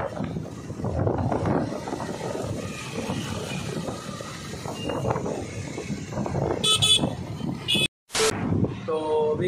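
Heavy street traffic in a busy area, a dense roaring rumble of vehicles with several sharp car horn toots near the end, people talking over the noise.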